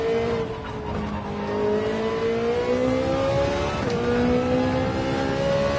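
A Ferrari 458 engine in Gran Turismo 7 revs and climbs through the gears, harmonic tones rising steadily then dropping at a shift before pulling up again, fairly quiet and with no talk.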